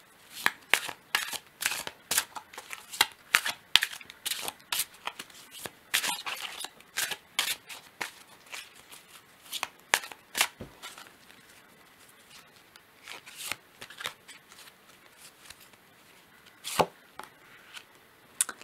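Witch's seasons oracle cards for Samhain being shuffled by hand, a fast run of crisp papery riffles and slaps in uneven bursts, close and fairly quiet, with no talking.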